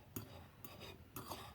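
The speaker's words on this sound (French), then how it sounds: "On va mélanger bien le couscous avec du beurre" A fork scraping and clinking against a bowl while mixing hot couscous with butter, three faint strokes in a quiet room.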